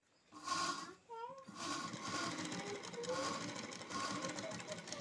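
A sewing machine stitches along the edge of an embroidered blouse, a quiet rapid mechanical whir running almost continuously after a short start, with someone speaking softly over it.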